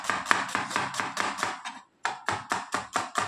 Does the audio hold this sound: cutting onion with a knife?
yes